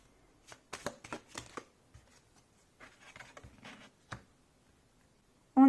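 Tarot cards are shuffled and laid out in a quiet room: soft, irregular bursts of riffling and papery slaps, some close and crisp, with pauses between them.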